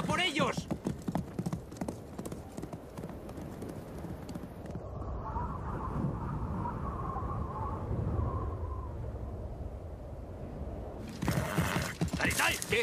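Horses move in a busy period-film scene of Mongol riders, hooves clip-clopping mixed with shouting voices, a quieter stretch of steady movement in the middle, then more commotion at the end.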